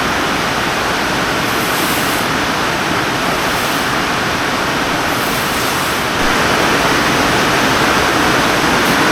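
Heavy rain driven by strong wind pours down on a riverside campsite at night, a loud, dense, unbroken wash of noise with gusty surges that grows slightly stronger near the end, no voices.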